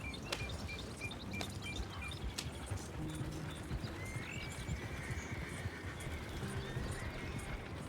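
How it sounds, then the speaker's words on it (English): Wild horses in Red Dead Redemption 2, with busy clip-clop of hooves, repeated neighs and whinnies, and faint bird chirps in an outdoor game landscape. "Ah, cheio de cavalo selvagem."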